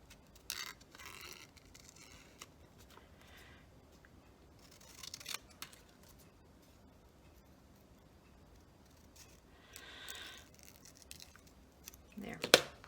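Scissors snip out a traced paper tab for a journal, with short bursts of close, crisp cutting separated by quiet pauses and a louder final snip.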